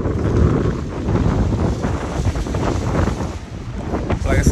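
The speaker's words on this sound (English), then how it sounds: "it's super windy" Strong gusting wind buffets the microphone in loud, rumbling bursts, with a faint hint of water in the background.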